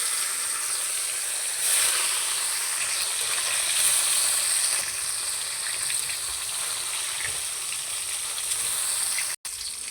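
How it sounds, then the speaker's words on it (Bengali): Kalibaus fish frying in oil for a curry with water lily stems, a steady bright sizzle and hiss that holds evenly for the whole stretch, fairly loud and close, with no talking. "আমার মাছ ভাজা হয়ে গেছে"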